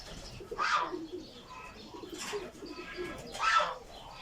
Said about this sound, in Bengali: এই যে এখানে কবুতরের ঘর